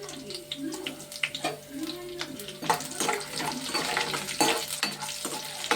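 Chillies dropped into hot oil in a pan, a burst of sizzling and spattering with stirring clatter. A voice talks over it at times.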